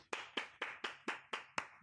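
Seven sharp, evenly spaced hand claps in a steady rhythm, close and distinct, each decaying quickly before the next.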